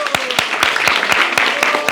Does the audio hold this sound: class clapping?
yes